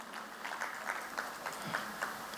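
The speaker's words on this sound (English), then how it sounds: "a big round of applause to her." An audience at an animation awards ceremony claps in a moderate, steady round of applause with distinct individual claps, fairly close, with no clear speech over it.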